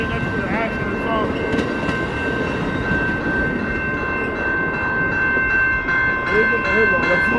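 Amtrak Train 352, a passenger train, rumbles steadily past the South Avenue crossing in Battle Creek, Michigan, a loud continuous roar with rail clatter and a brief horn-like tone near the start, voices faintly underneath.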